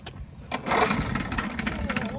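An old outboard boat motor catches on a single pull and runs rough and sputtering close by, rising then settling into uneven firing.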